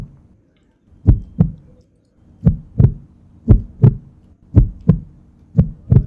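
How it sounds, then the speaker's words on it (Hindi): Heartbeat thumps in paired lub-dub beats, about five double pulses over six seconds, close and fairly loud with a steady rhythm, heard alone in a quiet comedy setting. "सॉरी, वो एंजाइटी हो रही है तो दिल की धड़कन चेक कर रहा था।"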